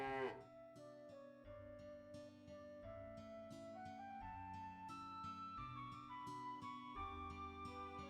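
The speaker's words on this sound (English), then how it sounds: "Hello, cow." Cow mooing in the video game Lunar: Silver Star Story, a synthesized moo sound mixed into a melodic game music track with tonal notes, moderately quiet and without speech.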